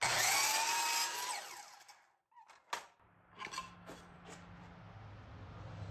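A power saw finishes a cut through a wooden picket, its loud whine dropping and fading over two seconds, followed by a few light knocks and clatters and a low hum.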